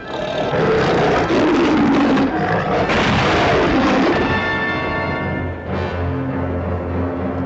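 Loud, dense burst of gunfire and booming blasts in a Western setting, continuous and heavy through the first half, then fading into a lower rumble with a trailing tone.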